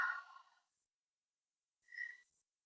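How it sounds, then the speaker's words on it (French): A soft breath is exhaled through the mouth during a yoga workout, followed after a pause by a second faint, airy breath, close and quiet with silence between. "Expire par la bouche."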